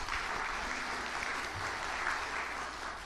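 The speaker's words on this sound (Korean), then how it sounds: "다시 한번 우리 박수 한번 보냅시다." Dense, even audience applause filling a hall, a continuous wash of many hands clapping at steady volume with no break and no talking over it.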